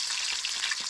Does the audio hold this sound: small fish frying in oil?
yes